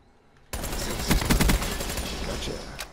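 Gunfire in the video game Call of Duty: Black Ops III breaks out suddenly as rapid, loud, close bursts of automatic shots that settle into sustained firing, with faint voices mixed in.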